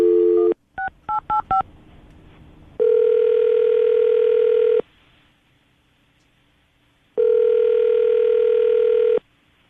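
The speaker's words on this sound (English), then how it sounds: "I'm going to dial the phone number right now." A telephone plays a brief burst of tone, then a quick series of touch-tone dialing beeps, followed by two long, loud, steady ringback tones separated by a quiet gap as a call is placed.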